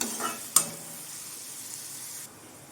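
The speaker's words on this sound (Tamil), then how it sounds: "வெங்காயம் வந்து ஓரளவு நல்லா வதங்கட்டும்" Onions sautéing in a pan for a drumstick-leaf poriyal, a soft steady sizzle with a sharp clink of a utensil early on, fairly quiet and with no talking.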